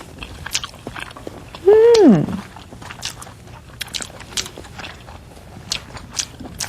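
Close-up crunchy bites and chewing on crisp fried braised meat and tofu, with sharp crackling clicks and a brief vocal hum early on.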